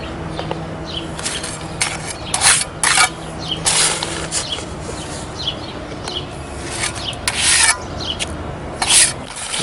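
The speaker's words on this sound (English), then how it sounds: "he's rubbing a little motor oil on the trowel" A hand rubs motor oil onto a trowel during concrete curb repair, producing repeated scraping and rubbing strokes in uneven bursts, close and fairly loud.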